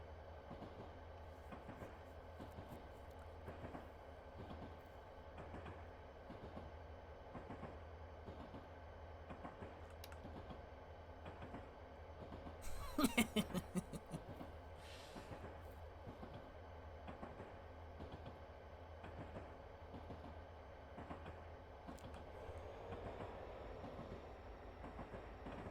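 A freight train of big, clunky boxcars rolls past in the evening with steady, faint clickety-clack from the wheels over rail joints and a brief louder clang midway.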